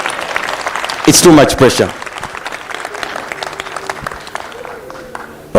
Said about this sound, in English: Let's just clap for them before they come here.